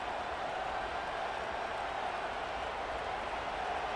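Steady stadium crowd roar from a simulated LSU vs South Carolina college football game in EA Sports College Football 25, a dense, continuous wash of cheering noise holding at an even level throughout with no clear breaks.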